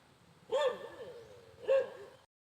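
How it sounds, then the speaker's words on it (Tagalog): Two loud, separate barks from a dog on a farm where corn is grown, spaced about a second apart over a low background hum. "Ay aso, wag niyo akong kagatin dahil takot ako sa inyo."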